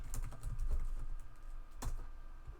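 Rapid, irregular typing on a computer keyboard with long fingernails, close and fairly loud, a steady clatter of key clicks with a couple of sharper strikes, no voices.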